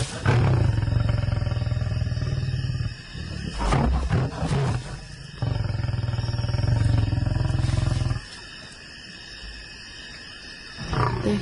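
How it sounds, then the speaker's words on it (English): Lions at night growl and roar in deep, rumbling bursts, loud and close, rising and falling over several long waves with short quieter gaps between them. "They're huge, powerful animals, and those growls and roars just rattle through your body."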